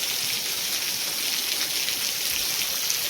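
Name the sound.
continuous heavy rain on a field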